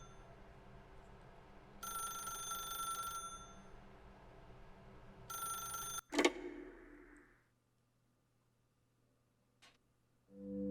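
An old-fashioned telephone rings in The Stanley Parable video game, two bursts of trilling bell a few seconds apart, then a sharp click as the receiver is lifted and the sound fades into quiet.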